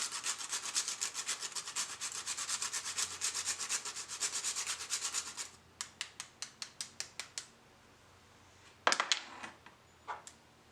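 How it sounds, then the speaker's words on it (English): Fresh nutmeg is rubbed against a grater in quick rhythmic strokes, dense at first and then slowing into separate scrapes, followed by a couple of sharper knocks, close and quiet. "I'm gonna grate about quarter of a nutmeg"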